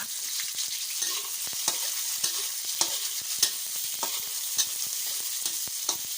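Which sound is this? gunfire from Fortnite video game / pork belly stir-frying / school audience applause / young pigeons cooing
pork belly stir-frying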